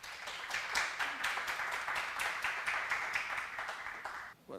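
An auditorium audience at a university communication lecture gives a welcoming round of applause for a guest professor, dense continuous clapping at steady volume that cuts off sharply near the end.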